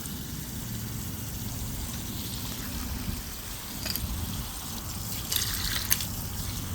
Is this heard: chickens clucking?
no